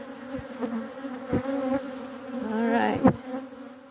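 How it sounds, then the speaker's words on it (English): Honey bees buzz around an open hive during a mite treatment with Formic Pro, a close, continuous droning hum with individual bees passing near, and a brief spoken remark near the start. "I'm gonna get up close and personal with a few of the bees."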